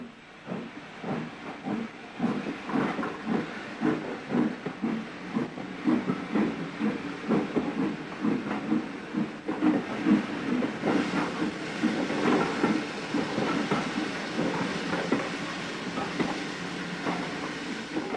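Irish SG3 Class 0-6-0 steam locomotive No. 97 pulls away from Drogheda station with a 1950s stopping passenger train to Dublin, rhythmic chuffing exhaust beats over steady steam hiss, loud and continuous.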